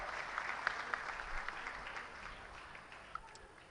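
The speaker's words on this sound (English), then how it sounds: "Please welcome Mr. Abhinav Bindra with a huge round of applause." Audience applause at a government summit event welcoming a panelist, a fairly quiet steady wash of clapping that gradually fades over a few seconds.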